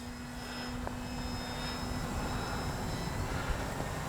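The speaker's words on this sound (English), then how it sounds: "I'm less than half throttle right now into the wind." A Durafly Brewster F2A Buffalo V2 RC plane on 3S flies at under half throttle into the wind, a steady buzzing electric propeller drone holding level and fairly loud throughout, with wind noise and no talk.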